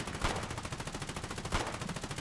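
Rapid automatic gunfire from a Foxhole battle, a steady rhythmic burst of shots running the whole time with a couple of louder heavier reports mixed in, close and loud with no talking.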